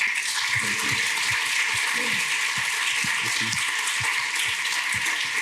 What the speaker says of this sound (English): Give a clap for these guys.